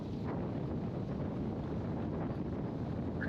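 Steady wind rushes outdoors on open water during a kayak fishing outing, a continuous broad roar with buffeting against the microphone and no speech.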